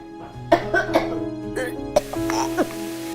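A woman coughs repeatedly at close range in a home drama scene: short rough bursts in quick succession with a throat-clearing hack, over a steady soft musical background.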